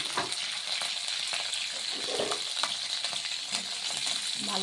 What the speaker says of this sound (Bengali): ভালো করে লঙ্কাটা আর কালো জিরাটা ভেজে নিচ্ছি।